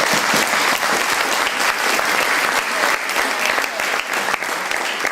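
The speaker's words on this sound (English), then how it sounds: "Big round of applause again for you." Sustained applause from wedding guests during the speeches, a steady dense wash of many hands clapping at once that fills the room without breaks.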